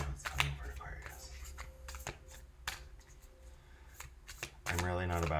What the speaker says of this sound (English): I'm really not a bad shuffler.